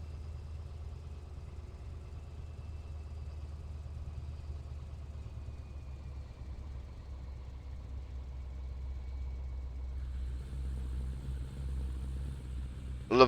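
A heavy truck engine in Euro Truck Simulator 2, running with pro mods under 1,000 RPM while cruising: a steady, deep, low rumble with a faint tonal whine that swells slightly near the end, no voices.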